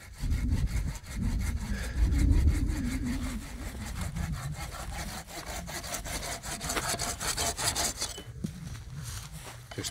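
A hand saw cuts through wood at an orchard shelter under construction, making steady back-and-forth rasping strokes close by, with no talking.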